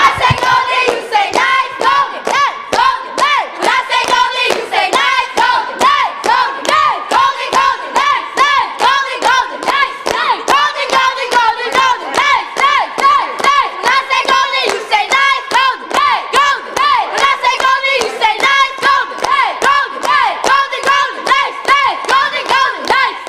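A crowd of children and adults cheers and shouts together at a Toys for Children celebration in Irvington, with rhythmic clapping running steadily throughout, loud and sustained for over twenty seconds.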